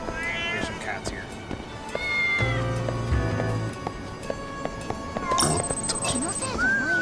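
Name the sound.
cats meowing in Lost Judgment video game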